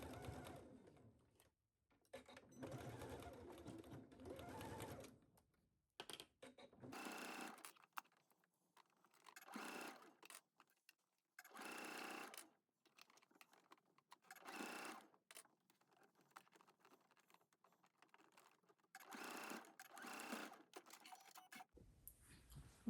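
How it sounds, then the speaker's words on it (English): A home sewing machine stitches a seam on a garment in short bursts of rapid whirring, separated by quiet pauses, with faint close-up clicks and no talking. "take this to your sewing machine and sew at 5/8."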